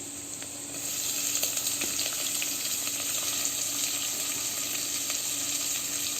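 Onion sizzling in hot oil in a pan for banana flower sabzi: a steady, close frying hiss that rises after the first second and stays even, with no talk.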